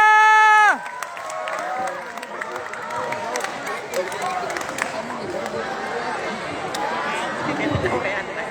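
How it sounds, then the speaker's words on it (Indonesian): A school student council (OSIS and MPK) candidate debate: a short musical sting gives way to a crowd of students cheering, clapping and chattering in a sustained, lively roar that swells slightly toward the end. "Mana tepuk tangannya?"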